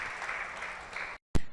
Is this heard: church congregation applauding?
yes